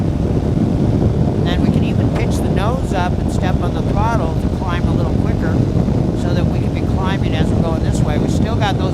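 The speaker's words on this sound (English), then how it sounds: "we can even pitch the nose up and step on the throttle to climb a little quicker" A small airplane's engine drones loudly and steadily while throttling up to climb over a coastline, mixed with rushing wind noise, and a person talks over it throughout.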